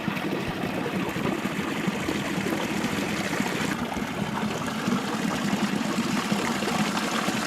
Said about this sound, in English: And this is the Maria Negra's fountain.